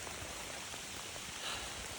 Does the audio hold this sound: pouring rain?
yes